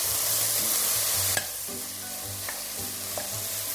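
Miso soup stirred and folded in a pot with oil at the bottom, a steady soft scraping and sizzling texture with a few sharper clicks of the utensil against the pot.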